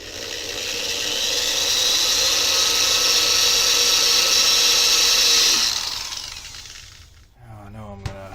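A power drill bores holes in a computer case, a steady high whine lasting several seconds before winding down, followed by a brief clatter and handling noise at close range.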